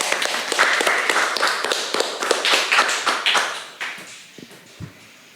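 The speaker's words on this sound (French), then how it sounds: "Je vous applaudis toutes les deux" A small group claps in applause, close and brisk with uneven rhythm, then thins out into a few scattered claps before fading to quiet.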